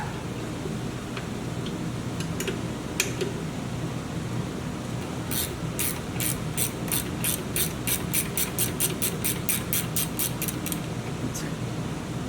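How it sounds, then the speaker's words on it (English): Ratchet clicking as caliper bolts are loosened on a Ford 8.8 axle in a Jeep TJ, a rapid run of sharp ticks mid-clip after a few scattered clicks, close and moderately loud over steady background hiss. "Start removing these bolts right here."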